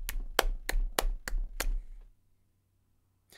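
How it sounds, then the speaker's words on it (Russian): Six sharp, close hand claps in a steady, fairly quick rhythm, followed by near silence and a faint final tap. "Похлопаем, похлопаем."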